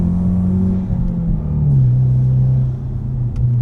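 A turbocharged Ford Mustang EcoBoost engine with Stage 3 tuning hums steadily in the cabin, its low drone rising slightly in pitch as it pulls under load, with no talk.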